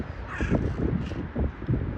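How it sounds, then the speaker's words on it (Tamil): A crow in Belgium caws repeatedly in quick harsh calls, fairly close and clear over light outdoor background noise. "காக்காவோட சவுண்ட் கொஞ்சம் டிஃப்ரெண்டா கேக்குது"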